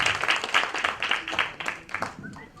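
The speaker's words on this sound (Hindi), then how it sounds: "आप जोरदार तालियां आपके लिए" Applause from a seminar audience, moderate and close, in uneven bursts that fade out over the last moments, with speech faintly mixed in.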